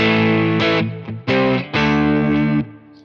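An electric guitar through a Keeley Mk3 overdrive pedal in its Robert Keeley mode plays thick, sustained distorted chords in a few short phrases with brief gaps, loud and close.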